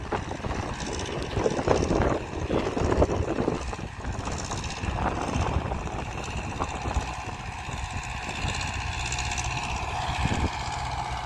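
MTZ 952 and MTZ 802 tractors disc and cultivate a field on a windy day, their engines giving a continuous droning hum under gusty wind buffeting.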